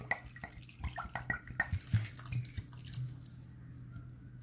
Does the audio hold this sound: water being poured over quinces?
yes